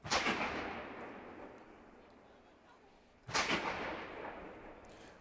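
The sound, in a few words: ceremonial cannons firing at inauguration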